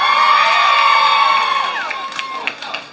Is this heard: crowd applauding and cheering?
yes